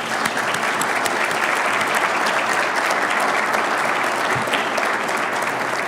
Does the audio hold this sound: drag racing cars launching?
no